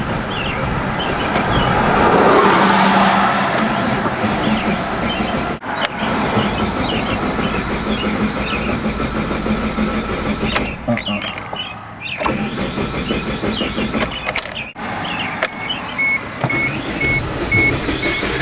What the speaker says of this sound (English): Now we're sitting here trying to start it.